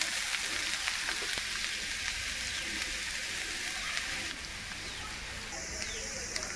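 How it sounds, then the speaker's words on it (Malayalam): Grated coconut frying in hot coconut oil, a steady broadband sizzle with faint crackles that runs the whole time, with no pauses and no talk over it. "എണ്ണ ചൂടായിട്ടുണ്ട്, നമുക്ക് തേങ്ങ ഇട്ട് കൊടുക്കാവേ."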